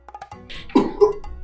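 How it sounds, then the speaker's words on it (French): A woman in a house gives a short cough, a couple of quick rough bursts close by after a few light clicks, with no speech around it. "Est-ce que tu viens de tousser?"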